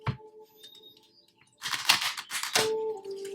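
Tarot cards are shuffled by hand in a quiet room, a brief riffle near the start followed by a louder burst of dense papery flutters and slaps lasting a couple of seconds, close to the listener.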